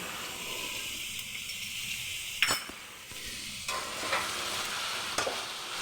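A spatula stirs chili powder and cumin powder through eggplant in a frying pan over a soft steady sizzle, with a few sharp scrapes and clinks against the pan and no talking.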